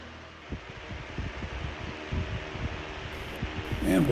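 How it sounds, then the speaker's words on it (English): A vintage Barber-Colman 12-inch oscillating electric fan running with a faint, steady airy whir and soft low knocks, growing slightly louder toward the end. "And we'll bring the fan up to high speed."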